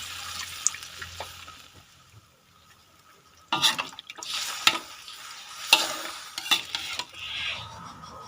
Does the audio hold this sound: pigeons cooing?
no